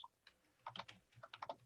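Keystrokes on a computer keyboard, a few isolated taps followed by two quick bursts of close, crisp typing.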